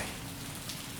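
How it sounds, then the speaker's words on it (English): Steady rain pours down in a dense, even hiss of drops hitting surfaces, constant and enveloping with no other sounds. "The rain became a lullaby,"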